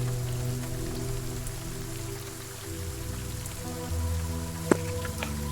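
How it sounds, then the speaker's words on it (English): Heavy rain pours steadily on surfaces in a video game scene, a dense continuous hiss with a faint low hum beneath and a single brief knock near the end, heard alone without talk. "Hard to hear them though, because the heavy rain."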